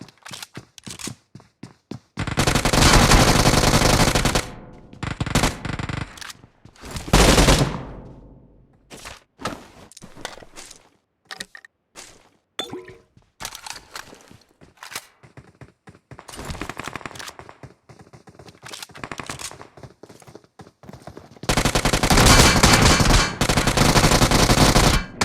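A new gun fires in BGMI/PUBG gameplay, with loud bursts of rapid automatic fire separated by sharp single and short-burst shots and brief gaps, close and dominant throughout.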